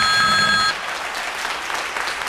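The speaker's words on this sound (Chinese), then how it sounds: "让我们为我们的文化来点掌声" Applause from the audience at a Cross-Strait university debate tournament round swells loudly. A short electronic beep tone rings over it at the start, and then the clapping carries on alone.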